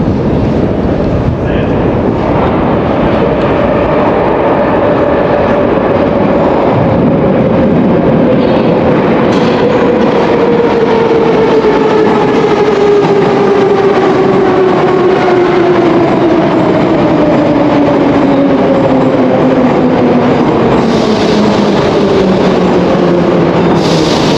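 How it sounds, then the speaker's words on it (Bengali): Moscow metro train pulling into a station, a loud steady rumble with a long descending whine as it slows, filling the whole stretch with faint talk now and then. "মেট্রো চলে এসেছে"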